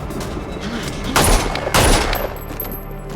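Gunshots ring out in a movie scene from a mystery drama: two loud, close bursts of gunfire about half a second apart, each with a short booming tail, over a dull background.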